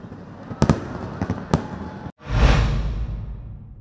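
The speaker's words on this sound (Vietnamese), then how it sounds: "Màn pháo hoa kéo dài 15 phút trong thời khắc giao thừa" A New Year's Eve fireworks display, with sharp cracking bursts followed by a loud, sustained rumbling boom and crackle, heard without talk.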